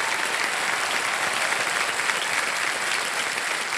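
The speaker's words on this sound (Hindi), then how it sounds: "जोरदार तालियां" A game-show studio audience breaks into dense, steady applause, loud and continuous with no voices over it, in a quiz-show setting.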